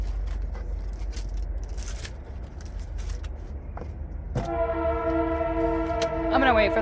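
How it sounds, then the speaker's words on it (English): Train rumbling past with a loud multi-tone horn blast near the end, preceded by scraping rail noise and a low steady rumble. "I'm gonna wait for the train to pass because that's a little annoying."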